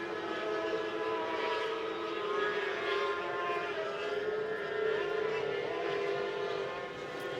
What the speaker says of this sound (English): But sounds like Robert Hens might have some engine problems.